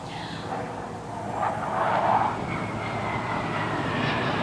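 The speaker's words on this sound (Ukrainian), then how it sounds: "Бойовий літак." A fighter jet passes overhead, a broad steady roar that swells in the middle and then holds, heard at a distance with no voices over it.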